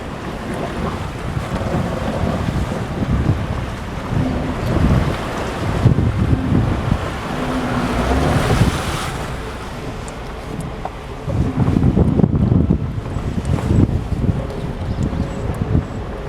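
A fast-flowing Himalayan river in Uttarakhand roars continuously, a strong turbulent flow mixed with gusts of wind buffeting the microphone, no voices.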